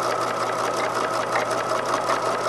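A sewing machine runs steadily while stitching a bound seam along a fabric edge, giving a fast, even mechanical whir and rapid needle chatter, close and continuous with no pauses.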